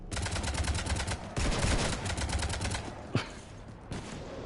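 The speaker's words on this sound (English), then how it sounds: "You want to stop shooting up my ship?" Rapid automatic gunfire in a Mass Effect 3 battle aimed at a ship, dense bursts of shots with a short pause and one heavier impact near the end, loud and continuous.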